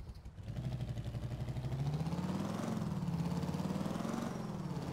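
In the video game GTA The Lost and Damned, a motorcycle engine rumbles at a steady low idle with a pulsing throb that rises slightly in pitch and stays continuous, close and steady with no talking.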